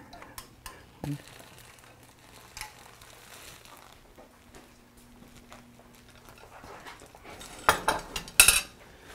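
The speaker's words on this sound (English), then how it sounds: "we're going to get this mixed up really well" Ingredients including vanilla are mixed in a bowl, quiet utensil clinks and scraping taps, growing into louder rapid clattering near the end, with soft voices in the background.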